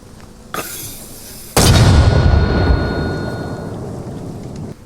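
Mortar rounds fire in Arma Reforger: a sharp blast followed by a second, much heavier boom that rolls and rings out slowly over several seconds, loud and close with no talk.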